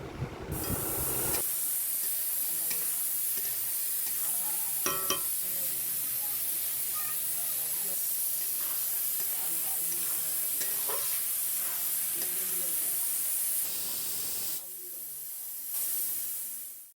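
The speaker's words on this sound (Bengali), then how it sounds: "তারপরে দিয়ে দেব লবণ, হলুদ, লঙ্কার গুঁড়ো সব কিছু দিয়ে আমি আবার সুন্দর করে কষিয়ে নেব।" Spice paste with salt, turmeric and chili powder sizzles and hisses loudly and steadily in a pan for chicken chana masala. Occasional stirring scrapes sound throughout, and the frying cuts out briefly near the end before resuming.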